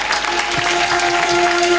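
A church congregation at a Blessed Sacrament feast in Yopougon applauds steadily, a dense, continuous wash of clapping with a faint sustained tone running beneath it.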